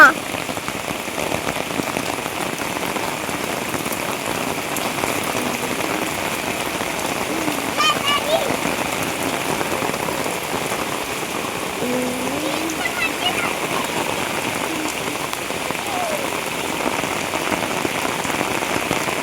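Heavy flood-season rain pours steadily onto surfaces close by, a dense, continuous hiss of drops that never lets up, with faint voices now and then beneath it.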